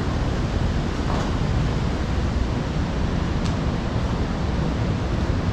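Water rushing and roaring down a pipe in an underground mine, a steady dense broadband roar that stays loud and unbroken throughout with no voices.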